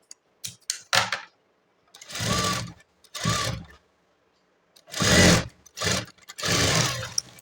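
A sewing machine stitches a blouse seam in several short whirring bursts with brief pauses and a few small clicks between runs, close and fairly loud, with no talking.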